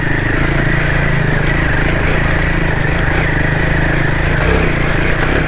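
Royal Enfield Himalayan 450 motorcycle climbing a rocky UK trail in first gear, its engine droning loud and close with a steady, unbroken growl that holds throughout.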